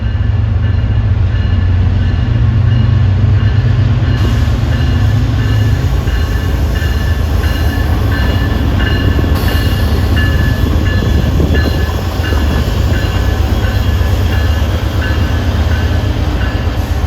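Boston commuter rail train passing close by, a loud continuous roar of wheels and rumbling cars with steady rail clatter lasting the whole time, no voices.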